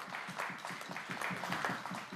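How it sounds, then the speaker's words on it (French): Audience applauding at a live French national holiday song event, a steady wash of many hands clapping throughout, moderately loud with no one speaking over it. "Je pense qu'on peut les applaudir bien fort."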